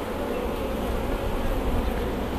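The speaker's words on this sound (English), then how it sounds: "You bump bees, the bees get excited." A big honeybee colony being worked during queen rearing, the bees stirred up after being bumped, gives a dense, steady buzzing hum close by with no voices.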